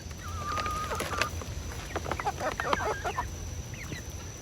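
Backyard chickens cluck and chatter in a steady, busy run of short calls, fairly close, with a continuous low farmyard hum beneath and no talking.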